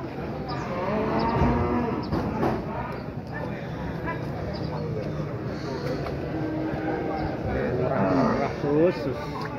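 Cattle low repeatedly at a busy cattle market in Pati, several drawn-out moos rising over crowd noise and people talking close by.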